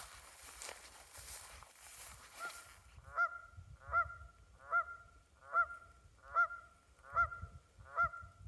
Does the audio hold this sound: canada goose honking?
yes